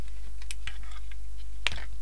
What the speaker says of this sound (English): so we'll just use the cutting tool here.